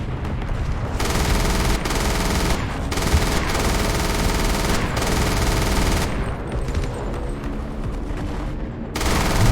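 Sustained bursts of rapid MG42 machine gun fire in a video game beach invasion set in 1944, loud and continuous with brief pauses, dense battlefield gunfire throughout.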